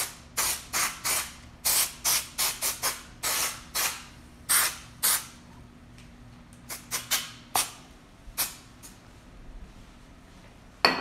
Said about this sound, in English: I'll spray this up and get her ready